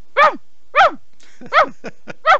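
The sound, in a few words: person imitating a dog barking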